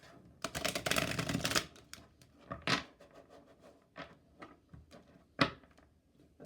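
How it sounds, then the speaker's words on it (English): Quick bursts of riffling tarot cards being shuffled, a dense flurry at the start followed by scattered flicks and taps, close and fairly quiet. "I do one shuffle on camera just so you can see that everything is shuffled."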